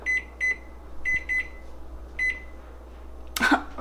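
A kitchen timer gives several short, high electronic beeps in irregular pairs and singles over a steady low hum, ending with a brief clatter.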